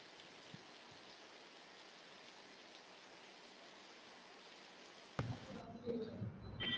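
Heavy rain pours in a steady, even wash of hiss for several seconds, then a louder, rougher jolt of nearby handling noise cuts in at the end.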